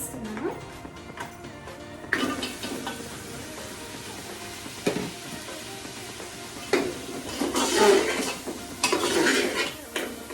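Mutton trotters (paya) going into a pot of fried onions: metal pot and spoon clatter and scraping with a light sizzle underneath, intermittent louder clanks, a voice talking over it.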